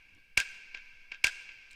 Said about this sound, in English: I still very much like this snap here and used it here